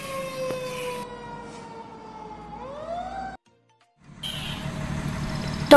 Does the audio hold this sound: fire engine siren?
yes